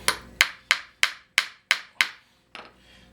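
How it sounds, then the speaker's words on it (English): A hammer pounds nails into wood in seven sharp, evenly spaced close strikes about a third of a second apart, followed by one softer final tap after a short pause. "pound in at 2 nails into the wood about 1 inch apart"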